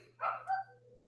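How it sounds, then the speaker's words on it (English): Dog barking indoors during a live wrestling event watch, two short, muffled barks in quick succession at moderate distance over a faint steady hum. "Sorry if you can hear the dog barking."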